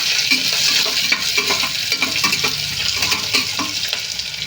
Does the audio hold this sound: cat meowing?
no